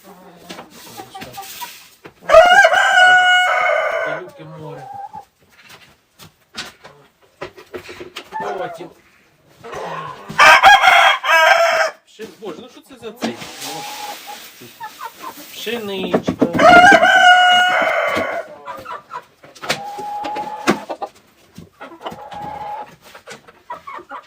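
Chickens cluck in a yard while roosters crow loudly in several bursts, with people talking in between the calls.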